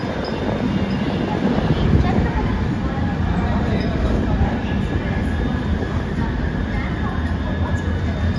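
The Devagiri Express rolls into Begumpet railway station with a steady, broad rumble of wheels on rail, continuous and fairly loud throughout without distinct horns or squeals.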